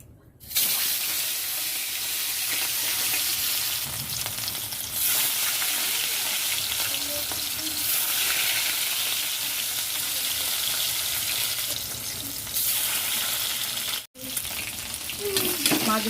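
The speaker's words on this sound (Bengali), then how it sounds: "মাছগুলো ভাজা হয়ে গেছে" Fish rubbed with salt and turmeric frying in hot oil in a home kitchen, a loud continuous sizzle with faint stirring and water sounds, broken by a brief drop near the end.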